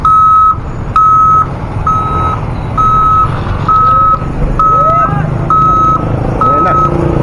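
An Isuzu Elf truck backs up on a highway construction site, its reversing alarm sounding a loud, steady series of evenly spaced beeps over engine rumble and road noise, with faint chirps in the background.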